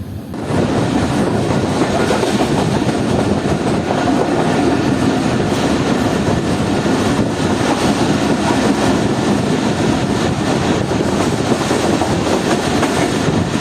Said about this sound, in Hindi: हमारी ट्रेन ने वहाँ से चलना शुरू कर दिया।